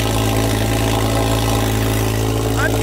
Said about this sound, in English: I own the loudest Porsche on the planet